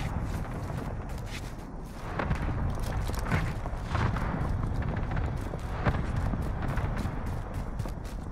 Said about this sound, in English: Nebula 5 bombers detonated in the distance.